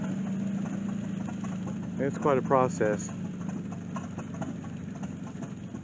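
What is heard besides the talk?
steam engine running belt-driven threshing machine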